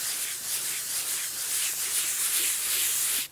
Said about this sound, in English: So now you want to scrub this side.